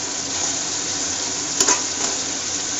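Turmeric is stirred into prawns frying in a pan for biryani, a close, steady sizzle with a short spoon scrape against the pan partway through.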